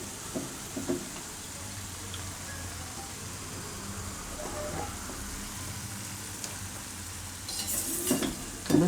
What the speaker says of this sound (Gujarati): હવે આપણે એમાં નાખી દઈશું મકાઈના દાણા.